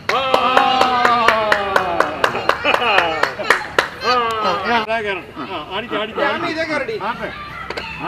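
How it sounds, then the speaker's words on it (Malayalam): A group of children clapping hands in a quick, sharp, even rhythm at first, then the claps grow irregular as lively voices sing and chatter over them, fairly close. "ഇനി എല്ലാവരും ഒന്ന് കൈയടിച്ച്"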